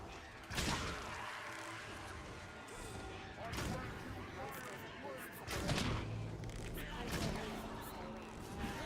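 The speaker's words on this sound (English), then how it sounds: "Literally makes a gunshot sound." Several sharp gunshot-like shots go off in Dragon's Dogma: Dark Arisen, spaced a few seconds apart over a steady game soundscape.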